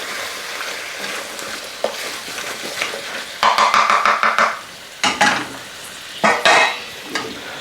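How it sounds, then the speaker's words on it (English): A spoon stirs butternut squash into a sizzling lamb curry in a pan, giving bursts of close, loud scraping and clattering over a steady frying hiss, with pauses between strokes. "Butternut squash is going to release some natural liquids, so give it a nice little stir."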